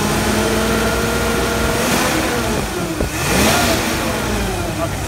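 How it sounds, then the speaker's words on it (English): A 1973 International Scout II engine revs up from idle to higher RPM, a steady loud mechanical roar with rising and falling pitch swells, close by and heard alone without talk. "go ahead and rev it up just so we can hear it at higher RPMs as well"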